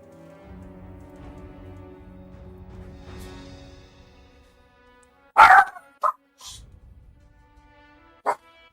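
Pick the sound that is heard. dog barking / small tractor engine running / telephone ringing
dog barking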